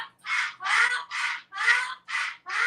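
Coco, a female pet cockatoo in a household of seven birds, gives six loud, raspy squawks spaced in an even rhythm, very close and unaccompanied by speech.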